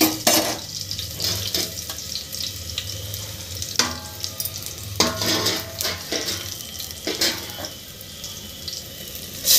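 Soaked chana dal being washed under tap water, with splashing and running water near the mic, broken by a few sharper clattering bursts, no one talking.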